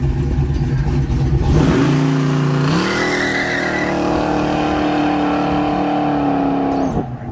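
A 1969 Dodge Charger General Lee replica engine revving hard, a loud close roar that climbs in pitch, holds a steady high drone for several seconds, then cuts off.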